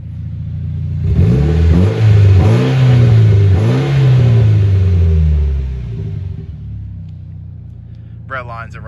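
A 2010 Mitsubishi Lancer Evolution GSR with a twin-scroll turbocharged engine is revved hard in several quick rising and falling bursts, then settles back to a low idle, recorded up close with a voice briefly at the end.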